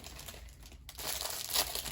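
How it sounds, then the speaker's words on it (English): Crinkly rustling of a Crispies snack packet being opened, close and fairly steady over two seconds, with a brief lull before it swells louder again. "Sorry about the rustling."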